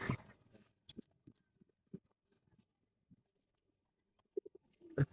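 Red jorda military pigeons in a loft give soft, low coos in short separate bursts spread across a quiet background. Faint rustles sit between them, and a slightly louder cluster comes near the end.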